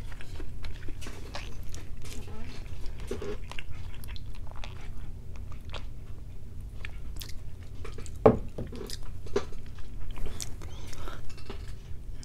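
Close-up chewing and biting of breakfast eggs at a mukbang table, soft wet mastication with occasional crunchy bites and faint clinks, steady and intimate with no talking.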